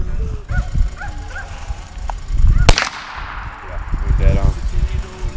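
A single sharp, loud gunshot from a 10mm HiPoint carbine fitted with an ATN scope, fired outdoors on a farm while sighting in, with dogs barking and people talking before and after.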